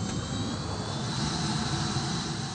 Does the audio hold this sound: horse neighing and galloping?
no